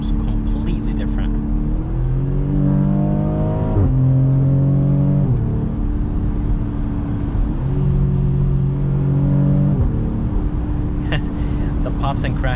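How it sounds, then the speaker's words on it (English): Engine and exhaust of a 2021 BMW X3 M40 in sport mode, heard from inside the cabin as it pulls through several upshifts, the rumbling drone rising and dropping at each gear change, with brief crackles in between. "The pops and crackles are just"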